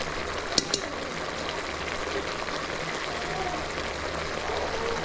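Beef pieces fry in a pan during the making of beef sukka, a soft, steady sizzle with a watery hiss that carries on evenly throughout. Two brief clicks stand out near the beginning.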